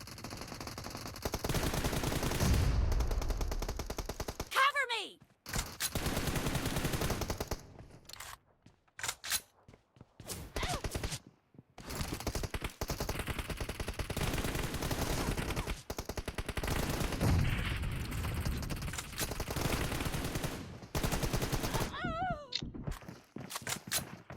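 Bursts of automatic gunfire from guns in the mobile battle royale game PUBG Mobile, rattling in long rapid volleys broken by short pauses and gaps, loud and close.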